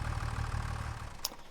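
A tractor engine in Farming Simulator 25 idles steadily with a low, continuous rumble that holds even throughout, with no voices over it.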